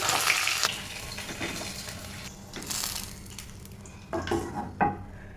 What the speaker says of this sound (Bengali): বাকি চিকেনগুলো আমি ফ্রাই করে নেব।